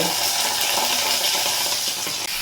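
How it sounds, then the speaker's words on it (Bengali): Ginger and chili fry in a pan over low-to-medium heat, a continuous dense sizzling hiss with faint stirring underneath, heard close up without talk. "এই আদা আর লঙ্কাটা আমি এর মধ্যে দিয়ে একটু কষিয়ে নেব।"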